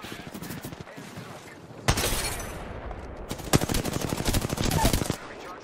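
Rapid automatic gunfire in Apex Legends rattles in dense bursts, with a loud sustained volley in the middle and a later stretch of fast shots layered over game effects.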